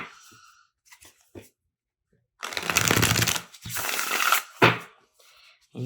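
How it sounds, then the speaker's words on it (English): A deck of Sacred Bee tarot cards is shuffled close up in two crisp riffling bursts, each lasting about a second, separated by short pauses and soft handling taps. "And you can shuffle them overhand, underhand, whatever you like to do."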